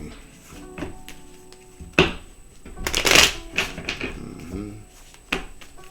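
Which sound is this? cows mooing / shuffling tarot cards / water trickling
shuffling tarot cards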